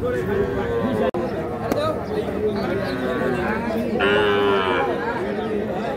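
A calf lowing at a busy cattle market, several drawn-out moos rising over steady crowd chatter and nearby voices talking.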